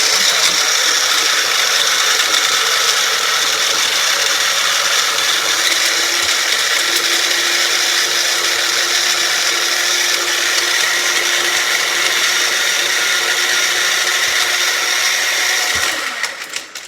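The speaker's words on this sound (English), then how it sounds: "my ice is pretty much blended" A blender crushes ice for a mint chocolate soft-serve shake, a loud, steady high grinding whir running unbroken for about sixteen seconds before winding down, close up and alone.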